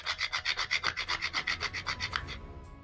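Sandpaper rasps across the outsole of a crochet slipper in a steady rhythm of about a dozen quick, even back-and-forth strokes, close and fairly soft, before it stops.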